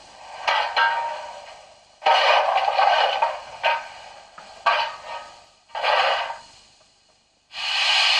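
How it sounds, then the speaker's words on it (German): Simulated coal shoveling from a 1:32-scale model Baureihe 98.0 steam locomotive: rough scraping and rustling bursts in irregular strokes with short pauses between, with no voices. "Dann wird das Kohleschaufeln nachgebildet."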